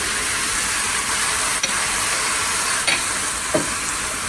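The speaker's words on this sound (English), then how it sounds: "You just want to brown up the ground pork." Ground pork browns in a frying pan with a constant, loud hiss of sizzling fat, broken by a few brief scrapes from stirring, and no speech.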